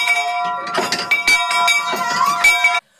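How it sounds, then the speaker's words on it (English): A bell rings repeatedly with bright metallic clangs and a lingering ring, struck several times in quick succession before cutting off abruptly. "Ring the bell!"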